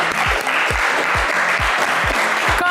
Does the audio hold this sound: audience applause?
yes